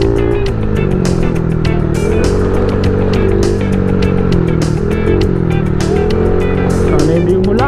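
Honda Click 59 big valve motorcycle engine revving hard, a loud, close, continuous high-pitched roar with rising and falling pitch sweeps throughout.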